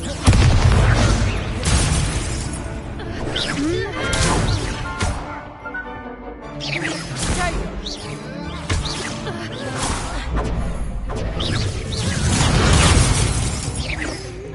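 Spell explosions and combat in the video game Hogwarts Legacy, a continuous run of loud blasts, crashes and shattering bursts, with cast voices calling out spell names between the impacts.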